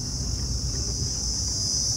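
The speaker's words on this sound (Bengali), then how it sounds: "চারিদিকে ঝিঝির আওয়াজ হচ্ছে।" Crickets chirp outside a car window on a drive from Kolkata to Tajpur, a dense, continuous high-pitched trilling that holds steady and fairly loud with no talking over it.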